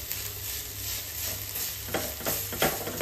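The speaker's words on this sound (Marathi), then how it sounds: "त्यानंतर पुन्हा एकदा व्यवस्थित असं मिक्स करून घ्यायचं आहे।" Saffron pedha filling made from khoa being stirred in a frying pan, a soft steady sizzle with a few scraping strokes of the spoon growing louder toward the end, no voices.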